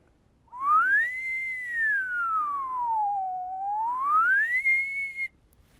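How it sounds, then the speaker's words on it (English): A person whistles one long sliding tone that climbs, dips low and climbs again over about five seconds, close and clear with no talking. "Let me whistle something and see how it changes color."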